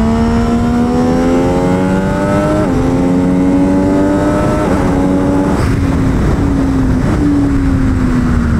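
An Italian superbike, a Ducati Panigale V2 or MV Agusta F3 800 RC, roars loudly and steadily at high revs, its pitch climbing through gears with brief shift dips while wind rushes past.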